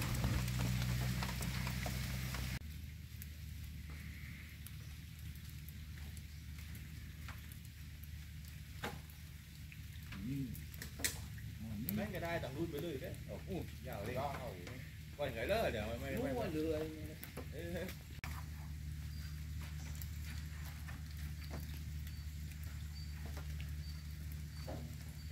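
Light drizzle patters softly and steadily in a peat swamp forest, a faint, even hiss with occasional louder drops, while someone talks over it.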